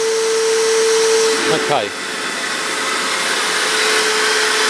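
A Hoover vacuum cleaner runs loudly and steadily while cleaning the DPF pipe of a car, a constant roaring whine with a brief dip partway through. A voice speaks a single short word over it.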